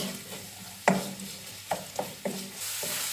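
Carrots and onion hit a hot pan and start stir-frying, giving a sharp sizzle burst followed by several short scraping stirs and a steady frying hiss, close and moderately loud.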